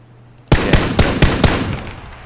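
Loud burst of in-game gunfire in PUBG, five or six sharp shots in a quick irregular string that ring out and then fade, with no talk over them.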